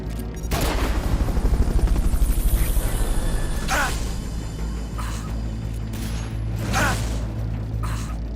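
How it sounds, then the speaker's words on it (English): A Fulton recovery helicopter in the video game Metal Gear Solid Peace Walker, a loud whooshing rotor roar with bursts of mechanical noise and a couple of sharp swells, no talk. "Fulton recovery helicopter is complete."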